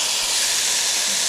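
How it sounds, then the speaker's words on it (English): Tomatoes and curry sizzle in hot oil in a cooking pan, a loud, steady, unbroken hiss with no talking. "You see the bubbles sizzling away at the top."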